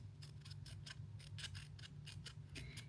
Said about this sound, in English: So I'm cutting little legs.